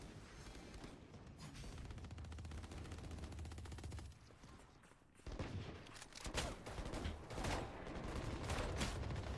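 Rapid gunfire in the video game Valorant rattles in dense automatic bursts, pausing briefly before resuming with heavier, louder volleys.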